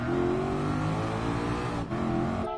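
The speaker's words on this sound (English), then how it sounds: "I'm gonna have to go with the Lexus. Alright, RCF, let's go." A Lexus RC F engine in Gran Turismo Sport revving steadily with a harmonic mid-pitched drone, dipping briefly before rising again, loud and continuous without talk.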